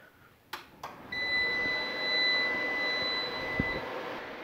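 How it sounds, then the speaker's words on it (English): A solar inverter, an MPP Solar PIP 2424LV-MSD pure sine unit, gives a long steady high-pitched warning beep on startup after a couple of switch clicks, with a fan hum rising underneath. "when I turn this on, you're going to hear a somewhat obnoxious beep,"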